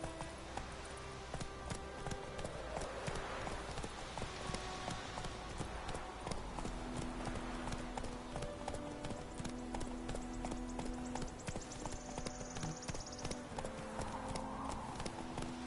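Horse hooves clip-clop steadily while riding in The Witcher video game, an even trotting rhythm under ambient music and scattered game sounds.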